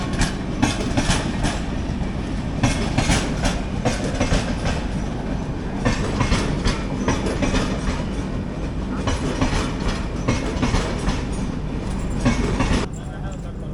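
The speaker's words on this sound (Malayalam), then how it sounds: "ബാംഗ്ലൂരിൽ നിന്ന് ചെന്നൈയിലേക്കുള്ള വൃന്ദാവൻ എക്സ്പ്രസ് ആണ്." The Vrindavan Express from Bangalore to Chennai passes alongside, a loud continuous rumble with rhythmic clickety-clack of wheels over rail joints, close and sustained throughout.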